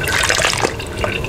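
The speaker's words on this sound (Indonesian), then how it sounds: "Kita bilas sebentar untuk menghilangkan busa-busa yang tadi tertinggal" Water splashing and pouring as boiled chicken pieces are rinsed in a basin or under a tap to remove scum, a loud, close, continuous wet rush with small splashes.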